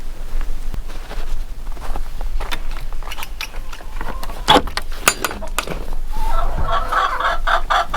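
Egg-laying hens cluck inside a chicken house, with a close, irregular run of clucks and calls, scattered thumps and rustling, and a louder, denser stretch of clucking near the end.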